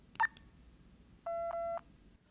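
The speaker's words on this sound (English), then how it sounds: "two low pitch beeps," An iBill talking banknote identifier sounds a brief chirp, then two low-pitched electronic beeps in quick succession, clear and close on a quiet background.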